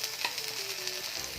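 A dosa fries on a hot pan with ghee added, giving a steady, close, soft sizzling hiss throughout the brief moment, with no voices.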